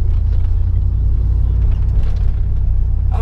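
A V8 engine in a classic Ford F150 5.0 pickup truck gives a steady low burble and rumble from inside the cab, continuous throughout with no clear revs.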